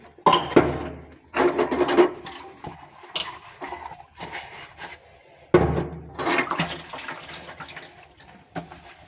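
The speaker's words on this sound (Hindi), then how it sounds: "मैं यहाँ बर्तन रख कर गई थी जैसा कि सिंक में दोपहर के खाने के। तो जी मैं साफ कर देती हूँ।" Lunch dishes being washed in a kitchen sink: running tap water and clattering pots and plates in bursts, loud and close, with quieter pauses between, no talking.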